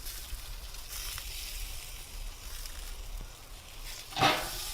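Brick-pressed chicken sizzling on a Pit Barrel Cooker, a steady low crackle with a brief louder hiss as a piece is flipped near the end.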